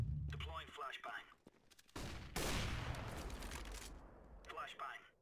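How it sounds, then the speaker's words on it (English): A flashbang grenade goes off in CS:GO amid a loud burst of gunfire, with a sustained bright blast and ringing noise lasting several seconds, while voices talk over the action. "Deploying flashbang."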